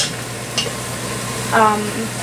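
Onions and garlic frying in a pan, a steady close sizzle with a brief stirring clatter partway through.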